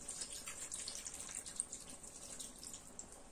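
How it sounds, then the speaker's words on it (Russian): Salted, sweetened tomato juice poured into a pan, a steady wet splashing and trickling stream that runs continuously at close range, with no talk over it. "Далее выливаем весь томатный сок, подсоленный и с сахаром."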